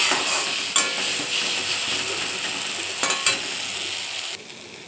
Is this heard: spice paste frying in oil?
yes